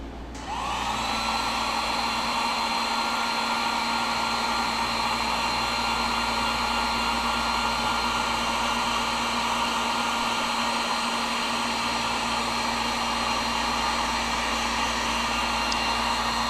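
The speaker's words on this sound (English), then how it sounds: "when you're doing the heat shrink, make sure that you keep your flame or your heat source moving" A heat source blasts air over heat shrink on headlight wiring, a loud, constant, close-up blower roar with a high steady whine that runs unbroken from start to finish.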